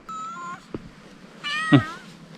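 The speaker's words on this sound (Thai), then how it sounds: "ร้องเรียกเหมือน เหมือนอยากกินอะไรสักอย่าง" A stray cat meows at a roadside stop in the hills of Phayao province, northern Thailand: a drawn-out cry, a short pause, then a second louder, strained meow, close by and alone over quiet background.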